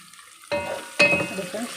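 Onions frying in a pan for a home-cooked dish, a soft sizzle broken by two sharp stirring clatters of a utensil against the pan, close and moderately loud.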